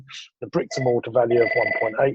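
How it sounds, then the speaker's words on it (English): An office telephone rings steadily with a thin electronic tone beneath someone talking close up, the ring carrying on through his speech. "Sorry about the phone there. I'm hoping that goes away."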